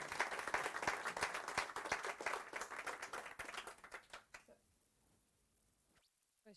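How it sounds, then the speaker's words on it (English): Audience applause after a talk at a London Docker meetup, a dense burst of many hands clapping that rings for about four seconds and then quickly fades to near silence. "round of applause"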